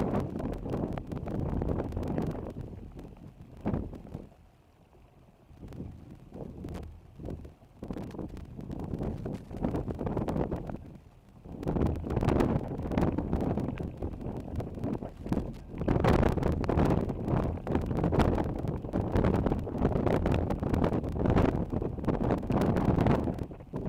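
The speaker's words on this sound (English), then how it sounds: "Dang, that wind." Strong hurricane wind roaring during a historic storm in Kingston, Jamaica, buffeting the microphone in loud gusts that swell and ease, with a brief lull before building again, no voices.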